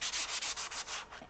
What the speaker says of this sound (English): first I'm sanding it